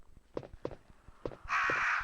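Crows cawing in the Resident Evil 1 PlayStation game, several short harsh caws in a loose rhythm, followed by a sudden burst of loud hissing game noise.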